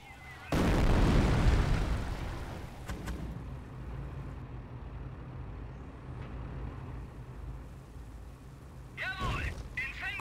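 A heavy artillery blast in the video game Company of Heroes erupts loudly, then rumbles and decays over several seconds, followed by a fainter distant thump and later a short burst of voice-like sound.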